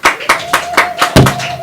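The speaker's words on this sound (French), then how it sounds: "On applaudit très très fort." Clapping at an event in the Democratic Republic of the Congo, made up of several loud, distinct claps in an even rhythm, close by, with a faint sustained tone running underneath.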